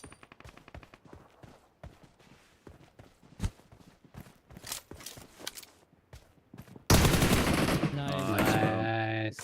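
Gunfire in the PUBG Mobile battle royale video game, a run of sharp shots and rapid bursts, faint at first, then a sudden loud, sustained stretch of blasts near the end, with game sounds mixed in.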